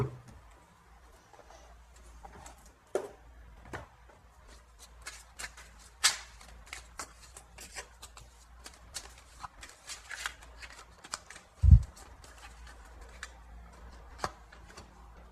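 Oracle cards being shuffled up close in a quiet room, with soft repeated riffling and flicking of the deck in irregular bursts, plus an occasional louder tap.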